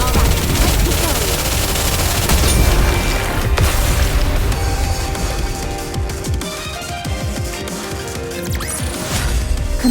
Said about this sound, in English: Would you like to try our signature missile? Fire!